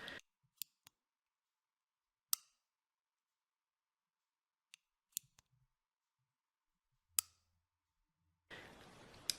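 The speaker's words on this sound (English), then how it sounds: "the first noise that often occurs with space heaters is a clicking noise" A space heater gives a handful of sharp, isolated clicks and ticks spaced irregularly across near silence as it switches on, followed by a burst of steady hiss at the end.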